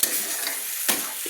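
A Bengali cabbage filling for vapa puli pitha is stirred in a pan over a low gas flame, making a soft, steady sizzle with one brief scraping stroke and no talking.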